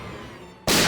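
A single gunshot goes off indoors, a sharp loud blast that cuts in abruptly at the end of a quiet stretch, heard as a sound effect in the Indian crime drama CID.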